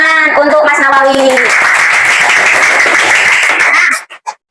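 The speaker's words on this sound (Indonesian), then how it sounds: "tepuk tangan untuk Mas Nawawi" Classroom applause for a student, loud and close, with voices over the start before a dense burst of clapping takes over and stops abruptly, followed by a couple of stray claps.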